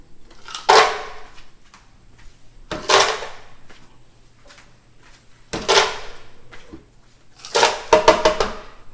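Ice cubes are added to a blender in a home kitchen, four separate loud clattering, rattling bursts with quiet gaps between them.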